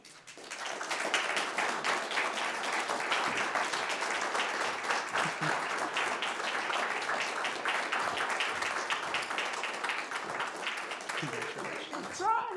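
A church congregation at a Sunday service gives a sustained round of applause, many hands clapping steadily for over ten seconds at moderate level, with a voice speaking near the end.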